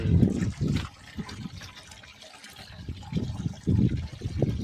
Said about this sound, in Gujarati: અત્યારે કુંડીમાં પાણી ભરાય છે